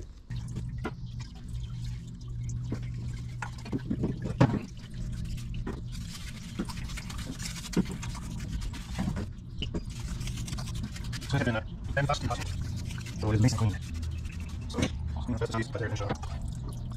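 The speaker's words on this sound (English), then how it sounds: "I'm gonna take it over to my parts washer, and we'll just wash the chambers out" A Detroit 2-53 diesel cylinder head being washed out in a parts washer: splashing and dripping liquid with brushing and scraping, and someone talking over it.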